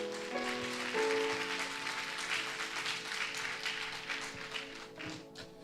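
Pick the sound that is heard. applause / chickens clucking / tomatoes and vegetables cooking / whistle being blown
applause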